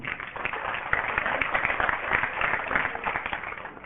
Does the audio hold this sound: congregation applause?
yes